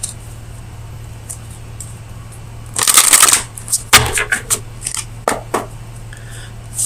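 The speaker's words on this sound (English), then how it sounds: "So let me get you an oracle card from the Oracle of Visions." Oracle cards shuffled by hand for a tarot reading, a dense riffling burst followed by several quick, crisp card flicks and taps, close and fairly loud over a steady low hum.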